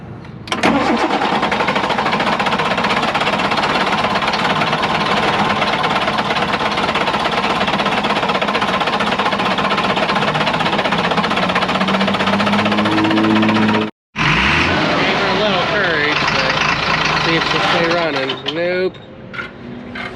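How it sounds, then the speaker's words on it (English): An engine cranks over continuously and loudly for a long stretch to build fuel pressure on a fuel system without its own pumps, with a brief break near the end before cranking resumes; a voice talks faintly underneath. "Got to be cranking to build the fuel pressure to redo the lines"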